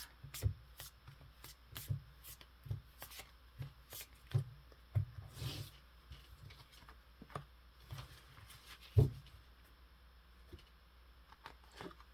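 Tarot cards are shuffled by hand in soft, irregular riffles and flicks, with brief pauses and a few sharper slaps, quiet and close with no speech.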